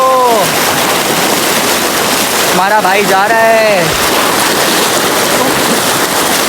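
Fast, high-pressure river water rushes loudly and without a break on a jungle trek, a dense broadband roar that lasts the whole stretch, with voices talking over it.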